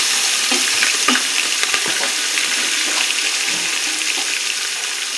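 Onions sizzle steadily in hot oil in a pan for country chicken biryani with green chillies and crushed cloves and cardamom, a continuous bright crackling hiss with small stirring clicks.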